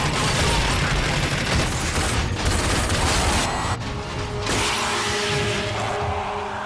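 Enemy gunfire in the video game RAGE, a loud, dense continuous barrage of heavy weapons fire and booms that briefly thins and then carries on, with no talk.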